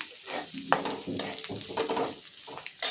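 Amaranth flour and roasted peanut powder are stirred and sautéed in a pan, giving a soft, close sizzle broken by repeated scraping strokes of a spoon against the pan.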